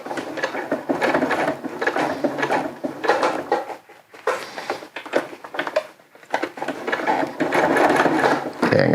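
A sewing machine stitches homemade rain overmitts, its rapid motor whir running in steady bursts with brief pauses as the fabric is turned, close and fairly loud.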